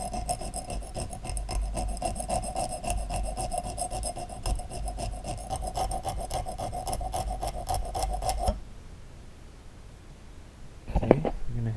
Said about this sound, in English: we're gonna just deburr it